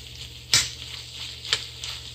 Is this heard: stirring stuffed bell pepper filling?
yes